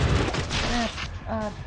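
A low booming sniper gunshot fires in the mobile shooter game Unkilled, a single close burst at the start followed by a voice talking over the game sound.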